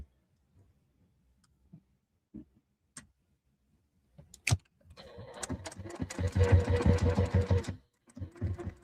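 A sewing machine bastes fabric in a burst of rapid, steady stitching lasting about three seconds, close and fairly loud, after quiet handling clicks and fabric rustles, with a brief restart at the end.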